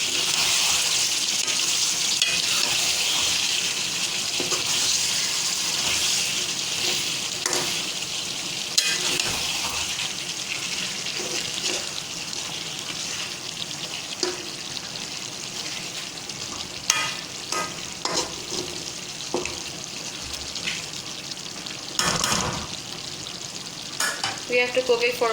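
Chicken karhai cooking in a pan after simmering under a lid, a loud continuous sizzle with stirring scrapes and clinks that grow more frequent toward the end, close and unaccompanied by talk.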